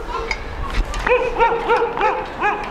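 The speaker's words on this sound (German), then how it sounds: "Der bellt schon wieder, der Hund." A dog barks several times in quick succession, a little distant, over a low background rumble.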